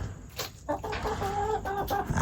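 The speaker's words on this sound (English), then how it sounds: "But old Mr. Rooster there" A rooster on a farm where Kunekune pigs are kept gives a short run of close, clear clucks, several quick notes in a row with a brief pause between them.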